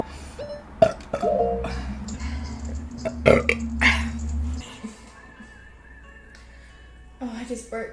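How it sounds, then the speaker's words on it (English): A woman lets out a loud, throaty burp mid-session, with a few shorter burp-like sounds nearby and her voice talking between them. "Oh, I just burped."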